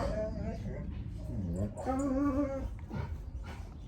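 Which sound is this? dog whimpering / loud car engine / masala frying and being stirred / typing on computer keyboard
dog whimpering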